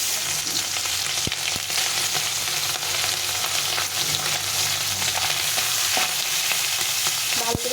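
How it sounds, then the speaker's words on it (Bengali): Tangra fish frying in hot oil in a pan, a dense continuous sizzle with scattered pops and crackles, close and loud with no talking. "মাছগুলো ভেজে নেব প্রথমে।"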